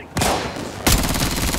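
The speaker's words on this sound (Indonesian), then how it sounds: "Tembakan." Gunfire in the mobile FPS Arena Breakout: two loud, close bursts of shots with sharp onsets, the second followed by a sustained rattling, ringing tail.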